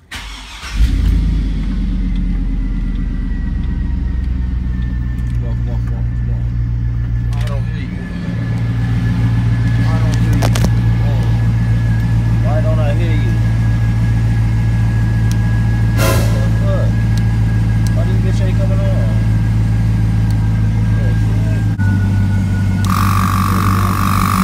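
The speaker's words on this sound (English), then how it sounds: "Oh, I gotta get the truck on." Truck engine cranks and catches, then idles with a steady low rumble close by for over twenty seconds, a brief hiss or air release near the end; voices talk intermittently over it.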